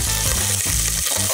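Garlic and onions sautéing in warm olive oil in a small pan over medium heat, giving a loud, close, steady sizzle with a few stirring pulses over a brief moment.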